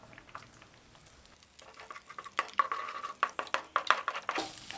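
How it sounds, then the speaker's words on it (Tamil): Four eggs seasoned with pepper and salt fry in a pan while a spoon stirs and scrapes through them, giving quiet sizzling and a run of quick, sharp metallic clinks that grow busier toward the end. "இப்போ 4 முட்டை எடுத்து வச்சதை பொரியல் மாதிரி செய்துக்கலாங்க."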